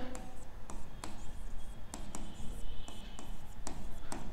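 Chalk or marker strokes on a board as a question is written out, a run of short scratchy taps and drags at an uneven writing rhythm, close and fairly clear.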